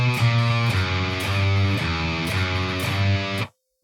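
A distorted electric guitar plays a metal fill, chugging palm-muted low notes in a driving repeated rhythm, loud and close, ending abruptly after about three and a half seconds with no talking.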